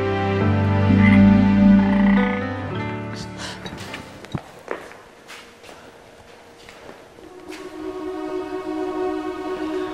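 Loud, close frog croaks sound in a rough repeating run during a fantasy drama scene, then thin out into scattered clicks and rustles as the croaking fades.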